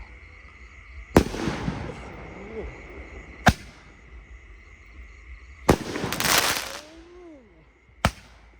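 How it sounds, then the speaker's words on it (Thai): Several loud blasts from a large firework ring out across the clip, one trailed by a long crackling burst and descending whistles, set against a constant low hum. "มันขึ้นสูงมากแล้วก็ระเบิดใหญ่มาก"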